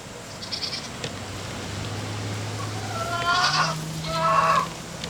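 Goats on a small South Texas homestead bleat in two clear, drawn-out calls near the end, with a low steady hum underneath and scattered faint earlier cries.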